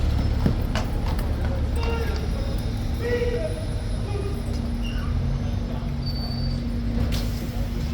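A horse's hooves clip-clop on pavement amid busy street noise, with people talking over the scattered, moderately close steps.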